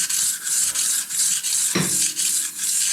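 A sharp woodworking blade edge is dressed on a 360 grit diamond hone, giving close, repeated rasping strokes in a steady back-and-forth rhythm, loud and alone.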